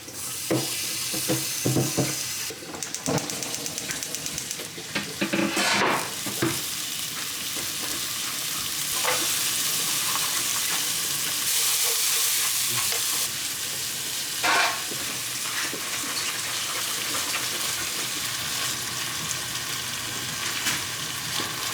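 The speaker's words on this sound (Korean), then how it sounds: "이제 칠리 소스가 다 볶아졌어요." Chili sauce for chili shrimp is stir-fried in a pan, giving a steady, close sizzle with intermittent scraping and stirring bursts throughout and no voices.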